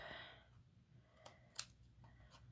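Scissors trim a strip of paper for a handmade card, a few quiet snips with one sharper cut standing out, close up over faint room noise.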